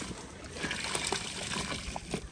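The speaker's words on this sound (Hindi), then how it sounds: "चावल उबालने के लिए हम देग में 2 बाल्टी पानी डालेंगे" Water pours and splashes into a large deg, a big biryani cooking pot, as part of an 8 kg village-style chicken dum biryani, a steady, fairly quiet trickling rush with scattered splatters.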